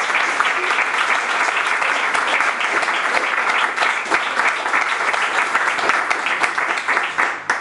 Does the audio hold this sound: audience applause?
yes